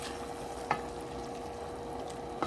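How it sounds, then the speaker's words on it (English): Ackee and saltfish with black pepper is stirred in a pot, a faint steady sizzle broken by two soft scraping strokes, with no voices. "We're gonna try to give it a little stir."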